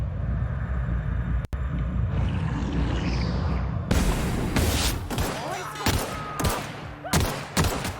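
Gunfire in The Outer Worlds: a rumbling ambient bed gives way to a rapid burst of sharp, loud, close shots in quick irregular succession, with a voice speaking underneath at moments.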